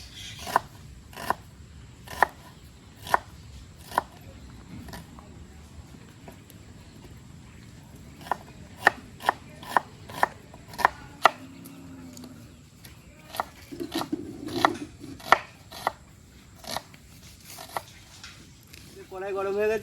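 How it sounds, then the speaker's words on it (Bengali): Sharp, crisp knife strikes on a board as an onion is chopped for chowmein, coming in irregular bursts of quick taps with pauses between, close but fairly quiet, with a low background murmur and brief talk near the end. "এখন এই চাউমিনের জন্য পেঁয়াজটা কুচে নেবো"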